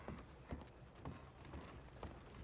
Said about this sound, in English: Just to get horses out from the stables now.